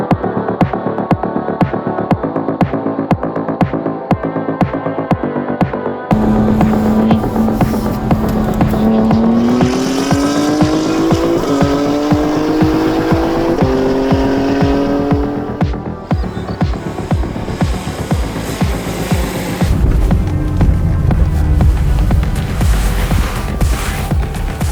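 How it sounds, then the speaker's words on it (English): Stage 3 BMW M240i driving toward an airfield, engine revving up through gears with a rising tone, then a deep steady drone and rough rumble, heard loud and close from inside the car. "we're driving up to a special airfield"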